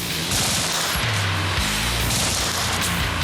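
Rapid automatic gunfire from a first-person shooter game, a dense, loud stream of overlapping shots and booming impacts with no pauses across the whole stretch.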